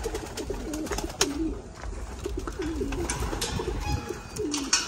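Racing pigeons coo inside a loft, repeated throaty rolling calls from several birds close by over a faint background rustle, with no talk.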